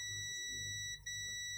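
Continuity tester buzzer on a hair straightener repair bench gives a steady electronic tone that runs for about a second and a half, broken by one brief dropout near the middle.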